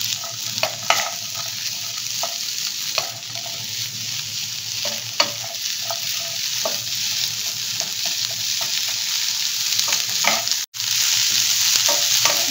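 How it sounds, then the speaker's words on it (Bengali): Ingredients for a creamy shrimp pasta are stirred and fried in a pan, with a steady sizzle and repeated scraping strokes of a utensil running close and continuous throughout, alone without talk. "খুব ভালো করে এটা নেড়ে নে।"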